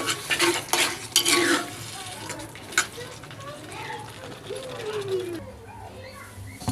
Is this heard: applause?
no